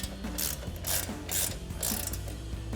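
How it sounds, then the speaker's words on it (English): An 18mm ratcheting wrench tightens a nut on a Chevrolet Silverado 1500's front Eibach Pro-Truck coil-over suspension, giving close, steady rhythmic clicking in repeated strokes with no talking. "We'll go ahead and grab our 18mm ratcheting wrench and tighten that down."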